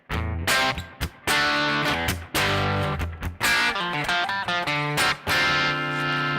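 Electric guitar played through an amp set to a crunch distortion tone, sounding out clear, punchy picked notes and short phrases with brief pauses between them, close and loud with no talking.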